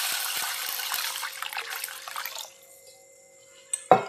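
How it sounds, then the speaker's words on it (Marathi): Water is poured into a vessel of sabudana (sago pearls) to wash them, a loud, splashy rush lasting a couple of seconds. It then fades to quiet trickles, and a short clunk of the vessel is heard at the end. "त्यात आता पाणी ओतते आणि याला आता आपण स्वच्छ धुवून घेऊयात।"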